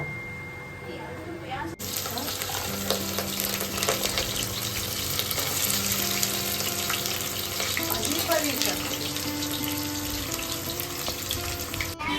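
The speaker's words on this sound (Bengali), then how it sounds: "গরম মশলা জিরে তেজপাতা ফোড়ন দিয়ে মাটন শুরু হলো" Mutton fries with garam masala, cumin and bay leaf in a continuous close sizzle, joined by watery bubbling and faint stirring, while a thin steady tonal hum runs underneath.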